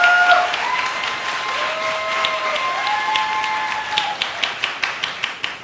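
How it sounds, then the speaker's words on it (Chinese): A church congregation applauds during a Saturday worship service: a dense wash of clapping sits over sustained musical tones, thinning near the end into a run of distinct, evenly spaced single claps. "掌声献给耶稣"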